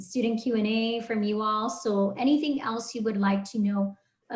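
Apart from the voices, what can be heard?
No everyday noises stand out.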